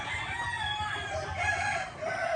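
White leghorn chickens cluck and crow in a continuous, dense farmyard chorus, close and loud, with overlapping calls filling the whole moment and no talk.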